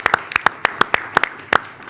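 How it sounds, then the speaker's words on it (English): Scattered clapping from a small audience at a public debate on medical assistance in dying: sharp, close individual claps in a loose, uneven rhythm over a couple of seconds. "Give her a big round of applause."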